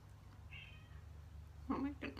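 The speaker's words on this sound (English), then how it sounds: "He starts meowing." A cat meows behind a closed door: one faint, brief cry, then two louder meows close together near the end.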